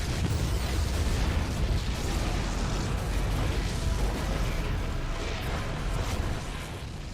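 Dense, steady rumbling explosions in StarCraft 2 fill the whole span, loud and continuous before easing slightly at the end.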